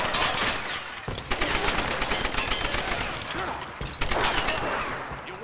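Bursts of gunfire in Tomb Raider on hard difficulty, rapid repeated shots in volleys with short pauses between, loud and close with mechanical clatter underneath.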